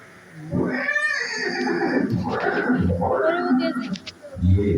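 A horse neighs at a museum exhibit depicting the famous horse Chetak at Haldighati, a clear whinnying call with a rising then falling pitch, followed by further louder vocal bursts, fairly close and loud.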